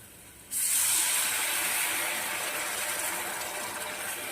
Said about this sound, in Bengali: এবার আমি একটু সামান্য জল দিয়ে দেব।